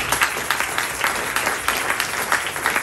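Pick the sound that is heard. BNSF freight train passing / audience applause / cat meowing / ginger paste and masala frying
audience applause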